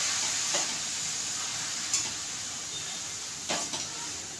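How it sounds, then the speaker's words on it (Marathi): Grated carrots roast in ghee in a thick, heavy pan, giving a steady close sizzle and hiss with three sharp scrapes of a spoon stirring against the metal, and no talk. "चांगला आपल्याला त्याच्यामध्ये तुपामध्ये असं भाजून घ्यायचं शक्यतो जाड कढई घ्यायची"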